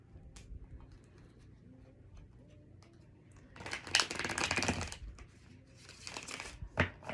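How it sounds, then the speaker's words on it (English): A deck of Tarot of Wonderland cards is shuffled by hand in a quiet room, giving soft scattered riffles and then two louder bursts of crisp card slapping close by. "Give it a little shuffle."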